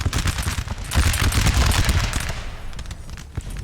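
Massed musket gunfire in a Napoleon: Total War multiplayer battle: dense, crackling volleys roll in overlapping bursts, loud and continuous, easing slightly toward the end, with no voices.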